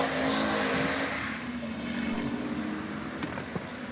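A modified turbocharged Ford Focus accelerates hard off the line at a drag race, its engine a loud, rough, sustained roar that eases slightly as the car pulls away.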